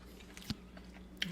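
Crunchy vegan pancake bitten and chewed, a few quiet, close crunches and chewing clicks spaced apart.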